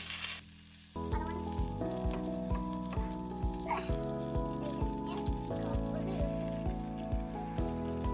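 A potato tortilla wrap fries in butter in a pan, a close sizzle that starts abruptly and then holds steady, with a repeating pattern of light taps and clinks over the hiss.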